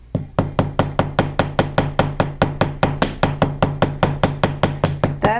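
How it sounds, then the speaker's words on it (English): A ball peen chasing hammer taps steadily on a fine silver bangle, about twenty-five sharp metallic strikes in a quick even rhythm, close and clear with a ringing tone and no talk. "Now I'm going to use the ball peen side of the chasing hammer."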